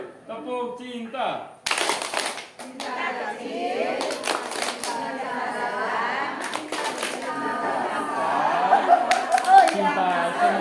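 A church group plays a rhythmic clapping game, with sharp bursts of unison claps breaking up stretches of chatter, chanting voices and laughter; the claps come in short clusters between the spoken parts.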